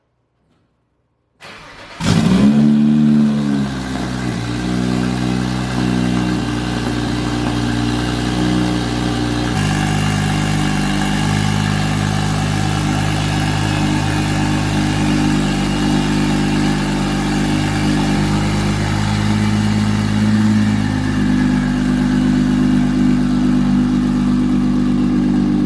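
A single-turbo BMW 335i tuned to 30 psi cranks and fires up after sitting for a week, catching with a sharp rise and then settling into a loud, steady idle that holds close and unbroken for about twenty seconds, with slight engine-note shifts.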